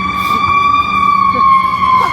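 A fire truck siren wails steadily and loudly throughout, its tone sliding slightly, with Chicago street traffic rumbling underneath and faint voices in the background.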